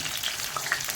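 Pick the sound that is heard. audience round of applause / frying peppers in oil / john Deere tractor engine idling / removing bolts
frying peppers in oil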